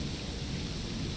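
An electrical storm in the game S.T.A.L.K.E.R.: Shadow of Chernobyl gives a dense, loud, continuous roar of rumbling thunder and rain that fills the short clip with no voices.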